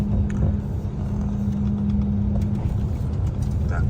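Car driving on a road near Bolshoy Never in Amur region, a steady low rumble of engine and tyres with a constant hum, close and continuous throughout.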